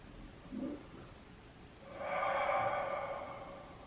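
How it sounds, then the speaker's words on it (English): A slow, deep breath during a yoga child's pose, with a soft breath at first and then a longer, fuller exhale that swells and fades, close and alone. "Breathe nice and deeply here"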